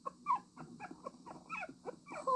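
A sick dog whimpers in a string of short, high, wavering whines and yips, close and fairly soft, with no talking over them.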